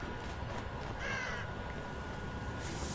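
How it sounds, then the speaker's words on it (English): Crows caw in The Evil Within, a single harsh call in the middle over a constant dark ambient background. "Fucking birds."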